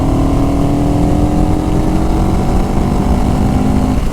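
A CFMoto CLX 700 motorcycle engine revs loud and close, holding a high steady drone whose pitch climbs slowly before easing off near the end.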